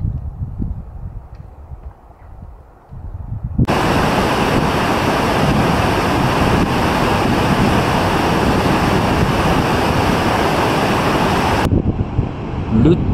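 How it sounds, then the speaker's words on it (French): Rushing meltwater torrent pouring from the Liligo glacier toward the Baltoro glacier on the K2 base camp trek in Pakistan, a loud, steady broadband roar that starts abruptly after a few seconds of quieter wind rumble and holds constant before cutting off near the end. "Le torrent issu du glacier Liligo s'en va sous le glacier du Baltoro."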